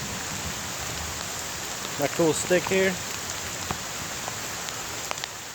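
Steady rain patters on a surface throughout at Little Manatee River State Park, Florida, with a brief stretch of someone talking in the middle.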